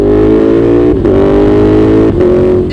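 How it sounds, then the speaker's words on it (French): A Super Duke 1290 twin-cylinder motorcycle engine with an aftermarket exhaust roars steadily at high revs with a deep, throaty exhaust, briefly dipping twice as if shifting gears. "une espèce de rugissement de la moto qu'elle n'avait pas avant"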